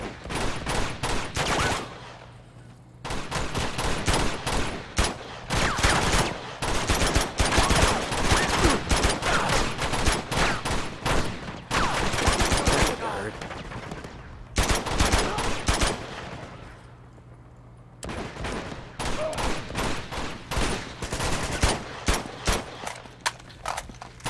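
Sustained gunfire during a firefight in Uncharted 2: Among Thieves, dense overlapping rifle and automatic shots in long loud bursts with short lulls, one voice occasionally heard underneath.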